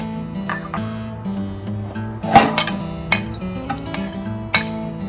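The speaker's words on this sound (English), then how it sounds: "we mix the ingredient and the noodles and the meat" Thai glass noodle salad (yum woon sen) with meat is tossed in a bowl, giving irregular clinks and knocks of utensils against the dish over a faint tonal background.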